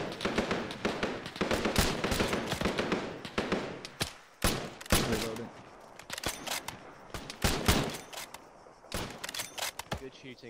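Gunfire in the video game Arma 3 during pre-WW2 infantry combat: sharp rifle shots and scattered volleys cracking at irregular intervals, some near and loud, others more distant, with voices talking between them.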